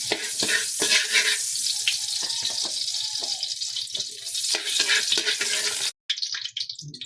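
Cooking oil sizzles steadily in a pan while preparing pinapaitan, a loud continuous frying hiss with scattered stirring clicks, cutting off briefly near the end before resuming.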